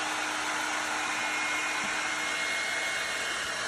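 Revlon One Step hair dryer and volumizer brush running steadily at close range, a continuous airy whooshing hum with an even, unbroken level throughout and no talking.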